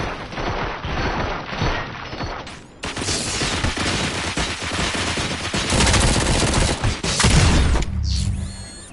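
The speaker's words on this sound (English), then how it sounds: "Fire at will." Rapid bursts of automatic gunfire in the RoboCop: Rogue City video game, dense, loud volleys rattling continuously with sharp cracks and brief pauses, ending on a quieter mechanical tail.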